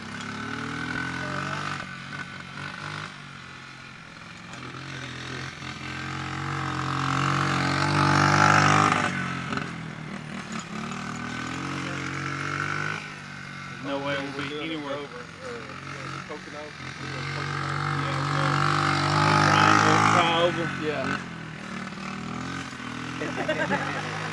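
A Honda Z50 minibike engine races laps around a backyard time trial, swelling loud as it passes close about every ten seconds and fading between passes, with people talking over it.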